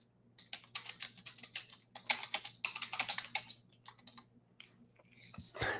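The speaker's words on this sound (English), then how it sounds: "I'm going to type it into Spotify" Fingers type on a computer keyboard entering a song name into Spotify, with bursts of quick, close clicking keystrokes, brief pauses between words, then a faint rustle at the end.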